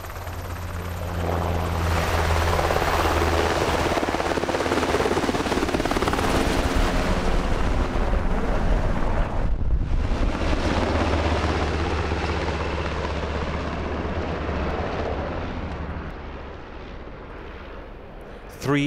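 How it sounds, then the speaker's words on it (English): Military medevac helicopters arrive to evacuate wounded soldiers after a roadside bomb in Helmand, a loud, close, continuous rotor roar that holds for nearly the whole stretch with one brief dip midway. "American Mercy helicopters arrive to evacuate the injured to the nearest field"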